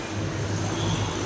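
A jeep rumbles past on a roadside street, a low steady engine drone with road noise, moderately close and unbroken for a brief moment.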